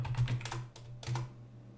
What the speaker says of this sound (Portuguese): Se eu digitar aqui.